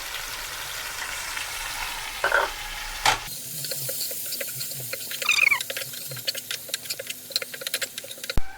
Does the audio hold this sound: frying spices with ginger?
yes